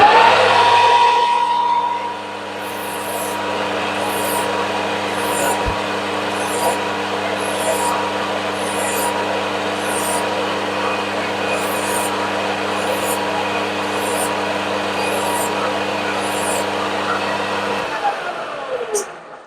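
A powered polisher works a chamfer-filed metal part, giving a steady, loud motor whine with faint rhythmic ticking as the piece turns. It runs on without talk until the machine cuts off near the end.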